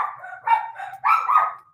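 Dogs bark indoors, a run of four close, loud, yappy barks rising toward the end, with no talking over them.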